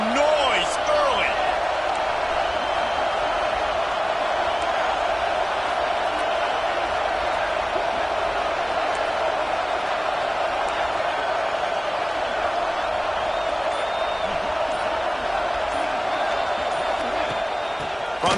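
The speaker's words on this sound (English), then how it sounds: "This crowd bringing the energy and noise early." Steady roar of a large crowd at a Vanderbilt versus Texas A&M football game, continuous and loud throughout with a few brief whistles or shouts rising above the wash of noise.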